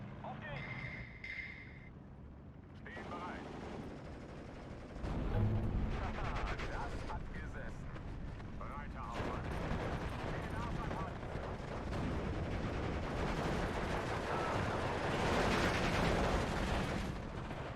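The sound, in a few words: Panzer IV fire support gunfire in video game Steel Division 2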